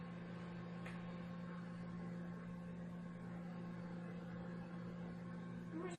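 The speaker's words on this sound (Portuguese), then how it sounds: "agora que eu terminei de mexer, eu vou colocar no micro-ondas" Microwave oven humming steadily while heating brigadeiro, a Brazilian chocolate fudge sweet, a low constant drone that ends abruptly.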